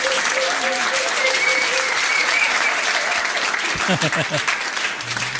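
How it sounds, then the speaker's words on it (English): Audience at a trivia quiz night on the Isle of Ely claps steadily for about five seconds, a dense close round of applause with a voice talking briefly over it. "give them a round of applause at least for trying"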